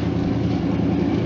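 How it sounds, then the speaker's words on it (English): A classic inboard boat engine idles steadily on a fake lake hookup, a dense, even low rumble with no talking. "started up the engine"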